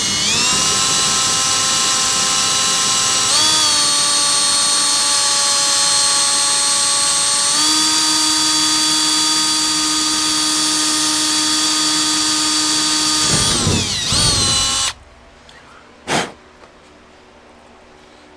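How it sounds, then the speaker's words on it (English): A high-pitched drill whines steadily for a long stretch drilling out old aluminum rivets, with the pitch dipping briefly as it bites in, then cuts out, followed by one short burst. "I'm just taking out the old aluminum rivets. So you just get right up on it right here"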